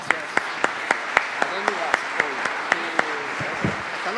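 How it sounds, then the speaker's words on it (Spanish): Evenly spaced, crisp claps ring out as a panel closes at a GLD forum in Buenos Aires. The steady rhythmic clapping rises over a murmur of voices and brief talk in the hall. "un aplauso para ustedes"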